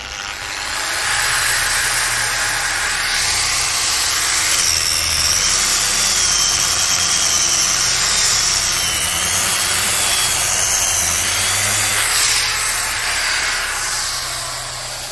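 A DCA ASM10-100 variable-speed grinder, set to speed 3 and fitted with a 4-inch sanding pad, sands with a steady, loud, high whine and broad hiss that holds almost unbroken for about fifteen seconds, close to the listener.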